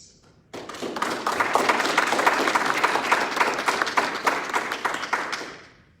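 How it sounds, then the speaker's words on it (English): Audience applause at a military change of command ceremony: a sustained round of clapping that starts abruptly, holds steady and fairly loud for several seconds, then fades out. "Please join me in a round of applause"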